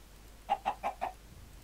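Minecraft chicken clucking from the video game: four short, evenly spaced clucks in quick succession, clear and close, alone over a quiet background.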